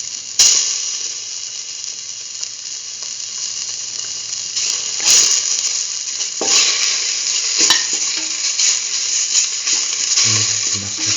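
Mustard paste sizzles steadily in a hot pan for a lentil rice dish, a loud, constant hiss broken by several sharp scrapes and clicks of a utensil against the pan.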